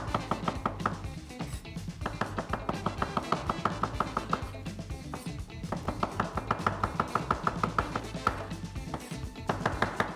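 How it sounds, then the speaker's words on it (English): A knife slicing champignon mushrooms, 400 grams, on a board for a winter soup, steady quick chopping strokes repeating close and clear throughout, with no talk over them. "I take the mushrooms, the champignons, cut them."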